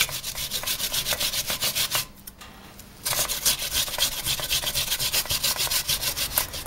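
Potatoes are finely grated by hand on a grater for a Hungarian potato cake, a steady run of fast, rasping strokes close up, broken by a pause of about a second before the scraping resumes.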